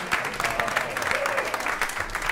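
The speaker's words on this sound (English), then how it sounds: "Clap loudly and often." An audience applauds Heartbeat Opera members at a variety show, a dense, steady patter of clapping that carries on throughout with some crowd noise mixed in.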